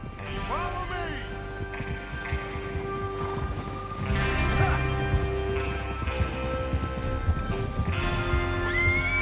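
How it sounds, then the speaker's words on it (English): Horses in the Red Dead Redemption II video game, several loud whinnies and neighs over trotting hooves and rain, with someone speaking throughout. "Get your horses ready."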